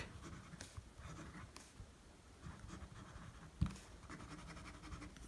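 Lamy 2000 fountain pen with a medium nib scratching across paper in soft, irregular strokes, fairly quiet and close, with one sharper tap near the end.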